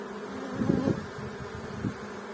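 A few honeybees hum around a weakened hive that has lost its queen, a soft, low buzzing that swells briefly twice, close and faint against a quiet background.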